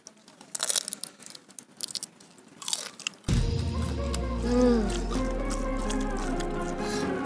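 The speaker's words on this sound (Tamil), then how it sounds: "சும்மா கடா முடான் கடிக்கணும் நண்டு காலை." Crunchy bites into a fried sea crab leg, Chettinad style: several sharp, close crunches and chewing sounds, then steady music comes in loudly and covers the rest.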